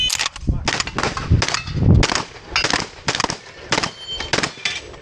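Shotgun blasts ring out in rapid succession at an outdoor plate shooting match, roughly a dozen sharp, loud reports overlapping in quick irregular bursts, close to the listener.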